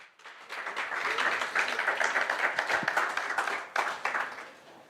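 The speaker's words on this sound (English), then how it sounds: "could we please give a round of applause to the University of Namibia Choir" An audience applauds the University of Namibia Choir at a launch event, with dense, steady clapping that lasts throughout and swells slightly toward the end, moderately loud and heard from within the crowd.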